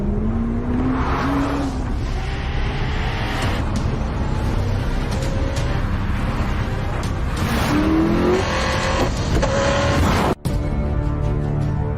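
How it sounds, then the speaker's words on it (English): A Hennessy Venom GT supercar drives hard, its engine roaring loudly and continuously with rising pitch sweeps through gear changes, close and unbroken apart from one brief cut near the end. "The Hennessy Venom GT."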